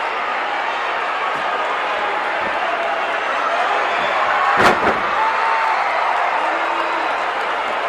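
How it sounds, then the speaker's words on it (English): A smashing wrestling body slam by Jim Neidhart crashes onto the mat as one sharp thud under steady crowd noise and a commentator's voice, with the arena roar rising briefly around the impact. "here is another one of those smashing body slams by Jim Neidhart"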